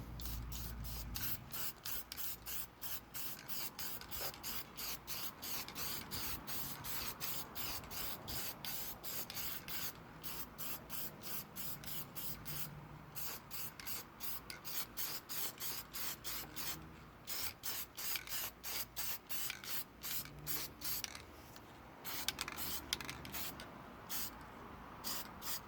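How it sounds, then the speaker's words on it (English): Continuous hissing of an aerosol spray can laying clear coat over GI Joe action figures, close and steady with rapid faint flutter and brief pauses, no talk. "So now I'm going to go ahead and coat all of these with my clear coat."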